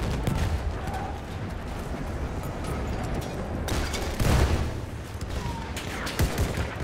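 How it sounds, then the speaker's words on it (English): Battlefield 1 game battle with repeated explosions and gunfire rumbling throughout, a heavy boom swelling near the middle and sharp bursts scattered across a loud, dense background. "This map is just endless explosions"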